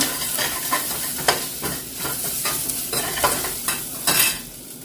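Onions and fenugreek sizzle in a pan while a spoon stirs in brisk, regular scraping strokes, close and steady with no voices.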